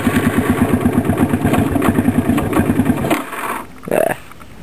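A Suzuki 230 Quadrunner ATV engine idles cold to warm up, a close steady rhythmic putter that drops off sharply near the end, leaving only a low hum and a brief bump.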